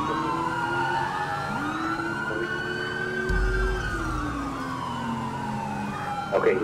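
Police sirens wail and sweep in pitch during a pursuit on a main road, loud and close with overlapping tones, a deep engine rumble swelling briefly midway, no voices.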